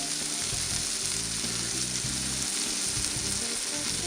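Butter and 80-20 beef meatballs sizzle and fry in a pan with a steady, continuous crackling hiss throughout, close and alone.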